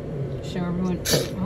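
A young child gives one short, breathy sneeze indoors, surrounded by soft talking from a woman and the child.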